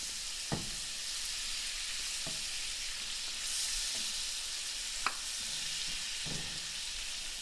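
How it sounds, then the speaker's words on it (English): Onions sauteing in melted butter over medium heat give a quiet, steady sizzle, with a few soft clicks and knocks of a utensil stirring the pan. "We're going to start the onions, melting the butter"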